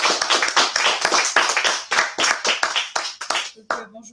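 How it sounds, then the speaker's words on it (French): An audience at a conference applauds, with loud, close, distinct hand claps in a brisk uneven rhythm that thin out and stop near the end. "Vous pouvez l'applaudir."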